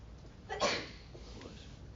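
One quick sneeze bursts out nearby, brief and abrupt, followed by quiet room sound.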